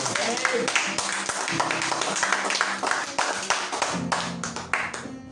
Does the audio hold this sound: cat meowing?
no